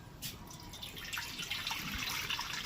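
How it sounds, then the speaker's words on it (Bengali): Water pouring into a pot for boiling eggs, a steady close splashing trickle that carries on throughout at moderate volume, with no talking over it. "এবার ডিমগুলোকে সেদ্ধ দিয়ে দেবো জল দিয়ে দিই"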